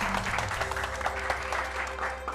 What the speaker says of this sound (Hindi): पर ये तालियां किस बात के लिए सर?